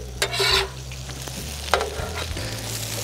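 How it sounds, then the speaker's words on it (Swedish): Chanterelle mushrooms fry in butter and beef juices in a pan, a close sizzle with two bursts of crackling as they are stirred and turned, scraping in between, no talk. "I smöret och de här goda köttsafterna som har kommit från biffarna."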